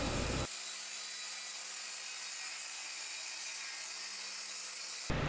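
A saw cutting through a sheet of plywood, a steady high-pitched grinding rasp that runs continuously for several seconds, close and loud, then stops.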